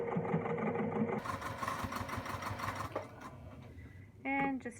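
A home sewing machine back stitches a zipper with its regular foot during final assembly of a bowler bag, a steady motor whir running loud and continuous for about three seconds before stopping, then a brief voice.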